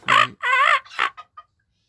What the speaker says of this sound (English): We're gonna hear a rooster crow.